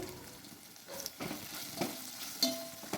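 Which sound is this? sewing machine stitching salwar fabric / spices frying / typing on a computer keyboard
spices frying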